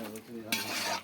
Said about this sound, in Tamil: அப்படியே வதக்க கொஞ்சம் கிண்டுங்க